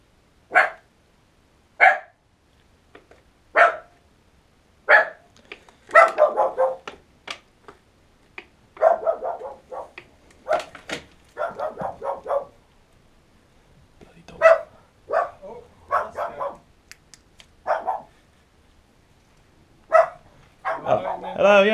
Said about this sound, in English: What I do wish that dog would go away.